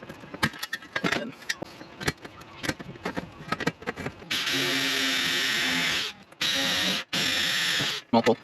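A power drill bores holes for rivets in a DIY pontoon stabilizer build. Handling clicks and taps come first, then loud, close drilling runs in long whirring bursts with short pauses between them.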